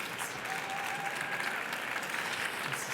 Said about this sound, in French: Merci Titouan, vous pouvez l'applaudir bien fort.